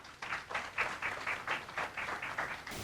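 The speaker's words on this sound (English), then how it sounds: "Can we please give them a round of applause?" Audience applause at an indigenous language seminar, a steady burst of many hands clapping for about three seconds, moderately close and filling the room.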